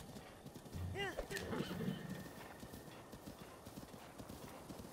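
Hooves of a skeleton horse in Zelda: Breath of the Wild clop in a quiet, steady rhythm, with a short whinny near the start, all fairly faint against the game's background.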